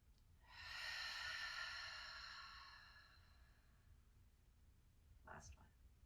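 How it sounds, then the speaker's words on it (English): During a yoga class, one long, soft breath out through the mouth fades gradually over about two seconds, and a short sniff or breath follows near the end. The sound is close and quiet, with no talking. "Inhaling through nose, exhaling through mouth."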